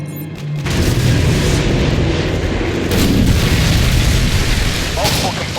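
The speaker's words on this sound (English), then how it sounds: "AGM missile is online" An AGM missile strike in Modern Warfare 2 lands as a loud, sustained explosive roar that fills the whole stretch, rumbling heavily with no clear pause.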